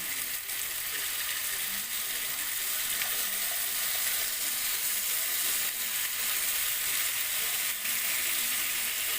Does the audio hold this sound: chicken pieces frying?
yes